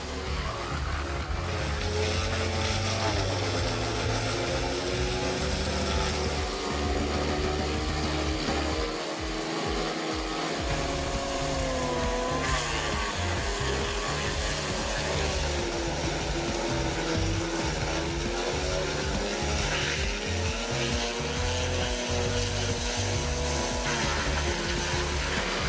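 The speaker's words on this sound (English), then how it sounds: "the Vermeer WC2500 XL wood chipper efficiently turns wood into valuable wood chips" A Vermeer WC2500 XL wood chipper feeding logs up to 25 inches across and turning them into chips, a loud, continuous roaring engine and grinding drone that holds steady throughout with shifting tones as wood passes through.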